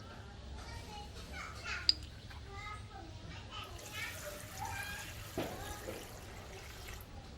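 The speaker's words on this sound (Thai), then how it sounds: "เพิ่มน้ำไปเลยครับ โอเคทีนี้ก็น้ำใส่ไปได้ได้เลย" Water pours steadily into a bucket of durian peels to make a high-potassium fertilizer ferment, a continuous splashing wash heard beneath faint background voices and noise.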